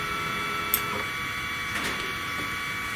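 A budget 3018 CNC router lifts its tool up off the workpiece as its stepper motors drive it, giving a steady electronic whine with a couple of faint ticks. No voices are present.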